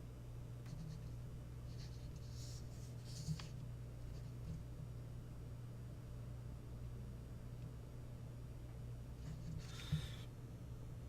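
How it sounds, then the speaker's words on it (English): Pen writing out a made-up master key bitting for a 6-pin lock system by hand, faint scratchy strokes in brief bursts over a low steady background hum. "I'm just going to write out just a made-up master key here."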